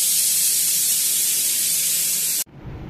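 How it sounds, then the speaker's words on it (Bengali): A pressure cooker vents steam in a loud, steady, high rushing hiss that cuts off abruptly after a couple of seconds, leaving quiet room noise. "হচ্ছে হচ্ছে এই সিটি বাজবে"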